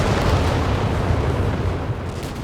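Artillery barrage in the World War II strategy game Company of Heroes 3 on a bunker map: a dense, continuous rumble of heavy impacts and booms, loud and sustained throughout with no talk.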